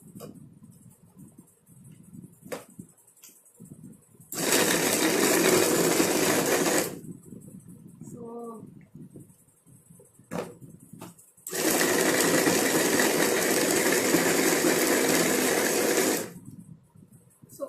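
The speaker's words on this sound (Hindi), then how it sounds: "तो हल्का सा सीडलेस डेट्स को आप ग्राइंड कर लीजिए।" An electric grinder blitzes seedless dates for a nut-and-seed ladoo in two loud, steady whirring bursts of a few seconds each, with quiet pauses, faint clicks and handling between them.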